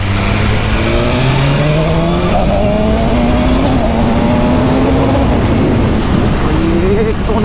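A superbike accelerates hard on the road at full throttle, its loud engine note rising steadily through the revs and staying close and dominant throughout, with a brief shift partway.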